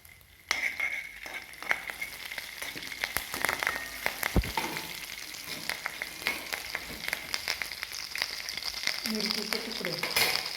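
Curry leaves, cumin and mustard seeds sizzle in hot oil for spicy Kolhapuri misal, a steady crackling fry broken by sharp spits and pops, with occasional stirring clinks close by.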